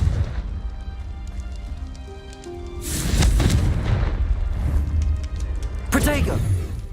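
Confringo fire spell exploding in Hogwarts Legacy combat, two loud booming blasts with crackling bursts over a rumbling battle bed, the second detonation sharper; a player talks over the action.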